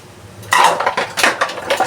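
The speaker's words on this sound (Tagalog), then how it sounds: "Habang nag-aantay, pag-uurong tayo." Dishes, pots and pans clatter while being washed during home cooking of sautéed bok choy, a quiet start giving way to a run of close, loud clinks and scrapes of cookware and cutlery.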